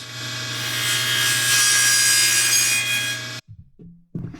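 Hand saw or power saw nibbling freehand at the edge of a wood cabinet panel, a steady, loud rasping cut for about three seconds that stops abruptly, followed by a few faint knocks.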